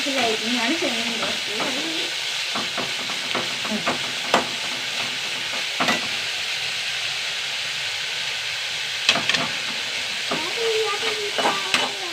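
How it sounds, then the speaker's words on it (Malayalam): Food being fried in a pan, carefully kept from burning: a continuous close sizzle with scraping stirs and sharp clinks of a utensil, a few brief spoken words near the start and end. "ഇനി കരിയാണ്ട് വറുത്തെടുക്കട്ടെ കേട്ടോ"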